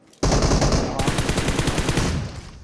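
Automatic gunfire from the mobile game PUBG Mobile bursts in suddenly, a loud, dense rattle of rapid shots that keeps going for about two seconds before tapering off.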